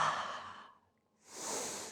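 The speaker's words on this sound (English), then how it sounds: "Exhale." Two breaths during a breathing exercise: a long airy exhale that fades out, a brief pause, then a soft inhale swelling in, close and quiet, with no talk.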